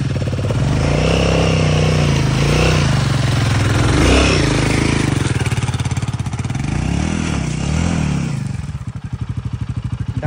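A motorcycle crosses a landslide on a mountain track, its engine loud and close, rising and falling in uneven revs with clattering over rough ground, then settling into a lower, steadier throb near the end.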